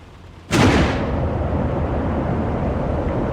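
A single sudden supernova explosion blast erupts after a short quiet moment, then decays into a long rumbling roar that lingers to the end.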